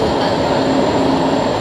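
Steady rumbling roar of a Singapore MRT metro train in motion, heard from inside or close by, a continuous close hum with faint wheel rattle and no voices.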